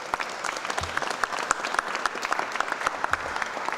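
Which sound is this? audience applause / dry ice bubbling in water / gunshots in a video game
audience applause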